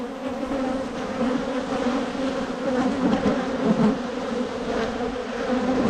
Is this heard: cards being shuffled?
no